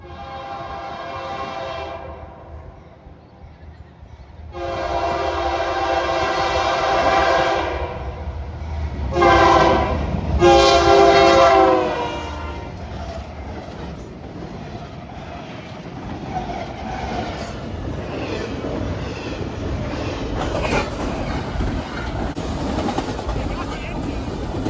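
A train rumbles past close by, its horn blaring in long loud blasts over the clatter of the cars, then the rolling noise carries on steadily.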